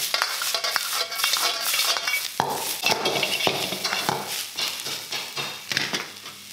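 Peppers stir-frying in rendered fat with no added oil, a loud continuous sizzle broken by frequent scraping and clinking strokes of a utensil against the pan, close and steady throughout.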